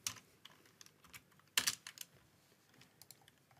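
Typing on a computer keyboard while modeling in 3ds Max: scattered clicking keystrokes, close and quiet, with one sharper burst of clacks near the middle and lighter taps around it, no talking.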